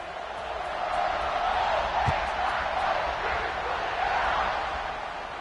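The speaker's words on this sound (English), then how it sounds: "this crowd is buzzing after that last score" Stadium crowd at a football game keeps up a steady, broad buzzing roar for the whole stretch, heard from a distance with no single voice standing out.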